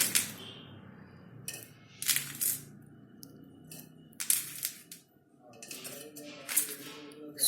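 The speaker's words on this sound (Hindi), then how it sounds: "और अब हम इसको इसके अंदर भर देंगे। ये हम गमले में डाल देंगे।" Potting mix is poured and pressed into a flower pot, making scattered gritty rustles and crunchy bursts at close range, with soft talking in between.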